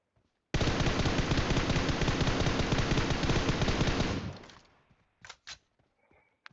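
Automatic gunfire from a mobile shooter game rattles in one loud, unbroken burst lasting several seconds, then trails off into a few short, isolated shots.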